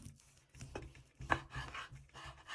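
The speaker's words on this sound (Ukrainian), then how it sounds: "Тепер будемо нарізати підгорницю" A knife cuts through smoked meat (pidhornytsia) on a board, a handful of soft, uneven slicing strokes and one firmer thud, quiet and close.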